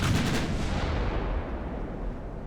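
Heavy naval guns boom from warships in the Ultimate Admiral: Dreadnoughts naval battle game, a heavy cruiser's 9-inch guns firing back, a loud rumbling salvo that rolls and decays over a couple of seconds with no talk.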